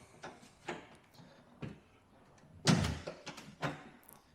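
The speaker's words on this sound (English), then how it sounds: "let me close the door." A front door of a house is closed with a solid thump midway, surrounded by several softer knocks and handling sounds in a quiet interior.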